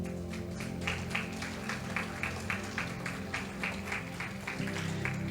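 A church congregation claps in a steady rhythm during a worship service, the repeated beats loud and even throughout, with organ or band tones underneath.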